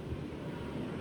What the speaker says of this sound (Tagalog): nakakabingi ang tunog ng malakas na tubig